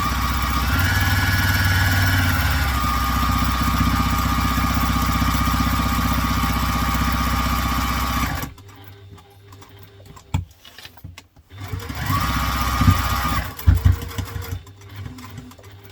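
A sewing machine basting the top and bottom layers of a fabric bag together, a steady close mechanical whirr running for several seconds, then stopping, followed by a quieter stretch with handling noises and a shorter burst of stitching.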